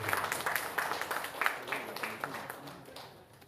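An audience at an anniversary ceremony claps in a dense, lively burst that slowly fades away, with a voice over a loudspeaker faintly under it.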